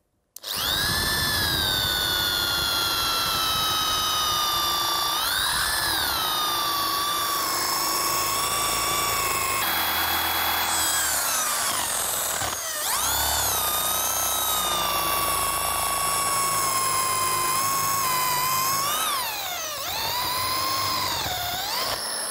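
A Dongcheng electric drill fitted with a 16 mm spade bit bores into material, a loud high-pitched motor whine that dips and strains under load several times before spinning back up, continuous and close.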